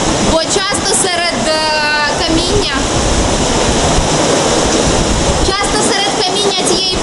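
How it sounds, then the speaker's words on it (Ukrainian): Water rushes steadily through a rocky cave in Malaysia, a loud continuous roar close by, with people talking over it in the opening and closing seconds. "І що цікаво, що вода систематично тече під нами."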